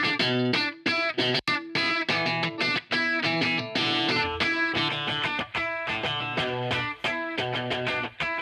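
Electric guitar with reverb switched on plays a Red Hot Chili Peppers "Can't Stop" style part, a steady run of choppy, muted funk strums and ringing notes that keep going without a break.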